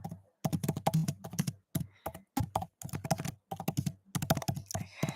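Rapid bursts of typing on a computer keyboard, close and fairly loud, clattering in uneven clusters separated by short pauses, with no talking.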